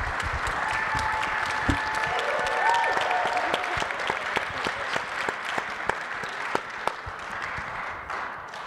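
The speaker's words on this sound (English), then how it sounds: "Could you give a big round of applause for the panel and Mr. Steyer." Audience applause for the panel at a Native American presidential forum, a steady wash of many hands clapping with a few sharper individual claps standing out toward the end; a faint voice is briefly audible early on.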